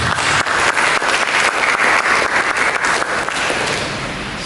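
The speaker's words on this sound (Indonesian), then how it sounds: "Berikan tepuk tangan bagi Yesus." Church congregation applauding for Jesus during an Indonesian sermon, a dense, steady wash of many hands clapping at once, loud and sustained, easing slightly toward the end.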